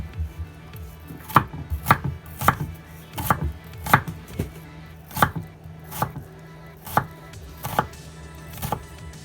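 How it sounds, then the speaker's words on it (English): A knife chopping red onion on a cutting board for jerk pork, with about a dozen sharp, close taps in a loose, uneven rhythm and quiet pauses between strikes. "Cut up my onion"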